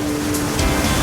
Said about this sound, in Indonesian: Gue nggak nyangka ternyata di Bengkulu airnya sampai juga di air terjun Sengkuang.